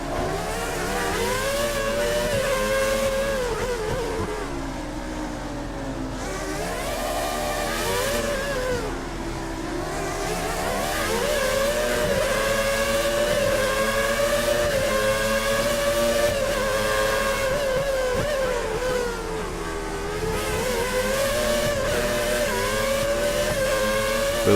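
Formula 1 2013 race car engine at Monaco, a sustained high-pitched revving whine rising and falling as it accelerates and lifts, loud and steady throughout with no talk.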